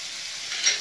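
Onion fries in a pan for a gulab jamun sabzi, a soft steady sizzle with a brief swell of hissing near the end, quiet and close.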